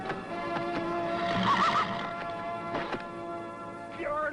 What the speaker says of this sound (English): That horse is mine.